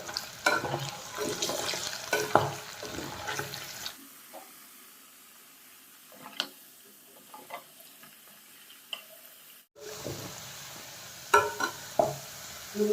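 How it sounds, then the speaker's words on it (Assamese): Potatoes fry in a pan in a pork dry fry dish, a soft sizzle with scattered stirring clinks, broken by a quiet gap before the frying and scraping resume. "আলুখিনি ৰঙচুৱা হোৱালৈকে ভাজি ল'ম।"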